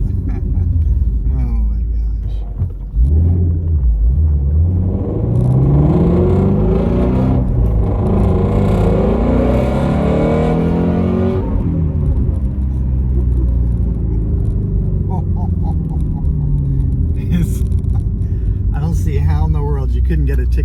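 A flat-plane crank, naturally aspirated V8 revs up and falls back while still cold, well short of its 8,200 RPM redline. A loud, close rumble runs throughout, with someone talking over it.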